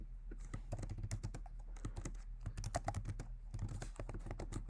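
An axis title is typed into an Excel chart on a computer keyboard, heard as a quick, close run of soft key clicks with brief pauses between bursts.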